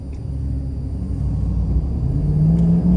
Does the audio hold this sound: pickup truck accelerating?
yes